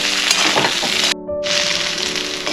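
Loud, steady sizzling of cabbage muthiya frying in a pan over a low gas flame, close up, broken once by a brief moment of near silence before the crackling frying resumes.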